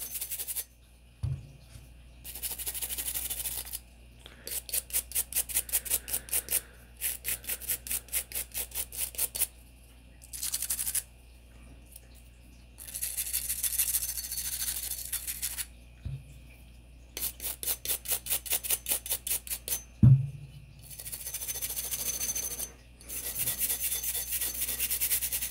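Stiff brush scrubbing the parts of a Sig Sauer P365 pistol during cleaning, around the extractor: repeated close, rhythmic raspy strokes in bursts with short pauses and a couple of small knocks.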